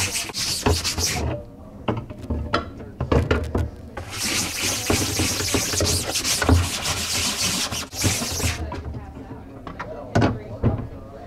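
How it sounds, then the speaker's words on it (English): A brush scrubs both sides of a screen printing screen in a washout area, with bursts of rough rubbing strokes separated by short pauses, fairly close and loud. "Then you're gonna take a brush, scrub a brush on both sides of the screen."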